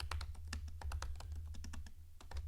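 Quick, steady typing on a computer keyboard as a short message is entered, with dense close-up key clicks in an uneven rhythm over a low background hum and no talking.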